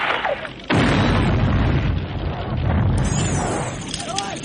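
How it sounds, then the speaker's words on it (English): A massive boom from an explosive arrowhead in Rambo: First Blood Part II hits suddenly and loud, then rolls on as a long, dense rumble that fills the rest of the moment. "These arrowheads are causing warhead drop from an airplane type explosions"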